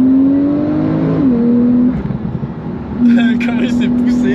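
Supercar turbo spooling as the car accelerates, a loud rising engine whine that drops and then settles into a steady high tone, with people talking over parts of it.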